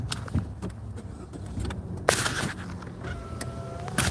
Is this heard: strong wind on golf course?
no